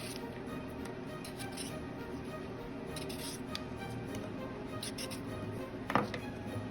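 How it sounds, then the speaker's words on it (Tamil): Potatoes are peeled by hand with a blade, making faint, soft scraping and ticking strokes. A slightly louder scrape comes near the end against quiet room noise. "இந்த மாதிரி தோல் சீவி வச்சுக்கோங்க"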